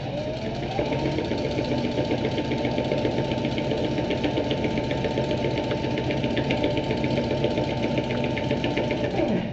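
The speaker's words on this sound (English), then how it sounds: "I'm going to forward stitch all the way down the bag" A sewing machine forward stitches a seam in canvas along a pouch, running steadily and continuously for about ten seconds with a dense mechanical whir and no pauses or talk.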